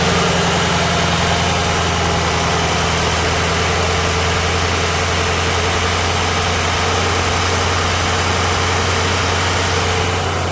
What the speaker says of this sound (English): It's got a little bit of high idle right now